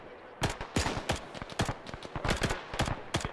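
Rapid, irregular gunfire from an Arma military shooter game: a string of sharp, close cracks arriving in quick clusters for several seconds, with no talking over them.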